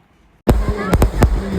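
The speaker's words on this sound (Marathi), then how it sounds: "हे बघा फटाका बघा कसला फुटतात." Firecrackers bursting loudly at a crowded wedding, a sudden near blast followed by several sharp cracks in quick succession.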